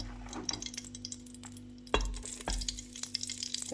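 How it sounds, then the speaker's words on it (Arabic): Oil heating in a frying pan before Tunisian mulukhiyah is added, giving a steady close sizzle with scattered clinks and stirring noises, plus a louder burst of frying near the middle. "تسمعوا في التشتيش نتاع الزيت"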